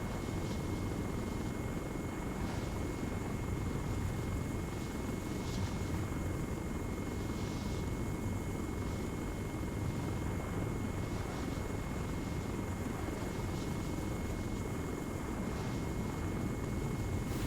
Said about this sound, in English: Yeah, the MI8's a great helicopter in DCS.